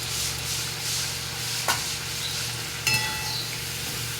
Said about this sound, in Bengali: এর মধ্যে এবার আমি টমেটো যেটা পেস্ট করে রেখেছিলাম সেটা দিয়ে দেবো।